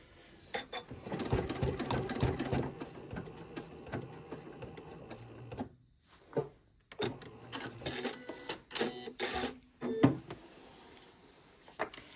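A sewing machine finishing a seam with a lock-in stitch, bursts of rapid mechanical whirring and clatter broken by short pauses and clicks, fairly close and alone.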